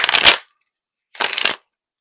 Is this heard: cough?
no